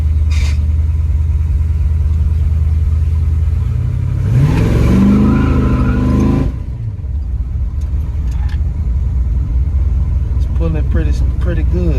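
A Chevy C10 with a 383 small-block V8 pulls hard under acceleration, a loud steady engine drone that swells into a revving climb mid-clip, then settles back to a lower rumble.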